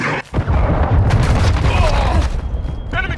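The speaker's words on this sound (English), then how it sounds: "Hostile cruise missile launched." A cruise missile explodes in the Call of Duty: Modern Warfare II video game, a loud booming blast with rumbling debris that sustains for a few seconds amid game effects.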